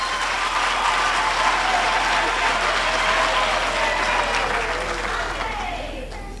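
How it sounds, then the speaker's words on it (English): A graduation ceremony crowd gives sustained, dense applause, steady and loud for several seconds before gradually tapering off near the end. "A round of applause for you."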